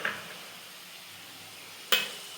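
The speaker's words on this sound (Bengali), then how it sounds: "আলুগুলো আমি হালকা লাল লাল করে ভেজে নিয়েছি।" Lightly browned potatoes fry quietly in a pan for a banana flower and prawn dish, a soft continuous sizzle with two sharp scraping stirs, one at the start and one near the end.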